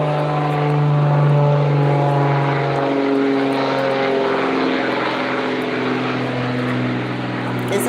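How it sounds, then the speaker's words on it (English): A small propeller airplane passes overhead just after taking off from a nearby airport, its steady droning engine hum loud and continuous, swelling slightly then holding, with no voices. "there's the airplane going over."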